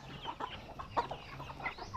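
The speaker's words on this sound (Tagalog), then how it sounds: "Dami ng manok natin dito." Chickens on a farm cluck and chatter close by in short, overlapping bursts, several birds calling back and forth with no human voices.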